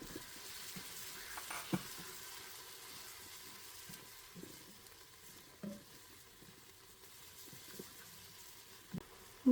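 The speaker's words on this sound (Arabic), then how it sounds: "نضيف الثوم وصلصة الطماطم، ونخليهم يتحمروا مع بعض" Garlic, tomato sauce and tomatoes frying together in a pot for a Saudi meat kabsa, a soft, steady low sizzle with occasional scattered stirring knocks, no voices.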